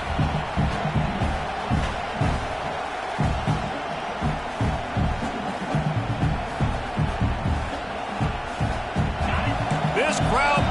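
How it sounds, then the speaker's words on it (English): A stadium crowd in a football video game roars as a steady, distant wash of noise while a commentator talks over it throughout. "This crowd bringing the energy and noise early."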